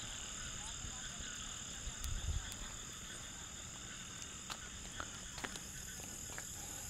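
Frogs croak in a steady night chorus near a campsite, mixed with a constant high insect drone and a few sharp clicks, with a low thump near the middle.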